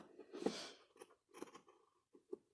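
Scissors snipping slits into a cotton T-shirt, a few quiet, close crisp cuts spaced irregularly with soft fabric rustle between them.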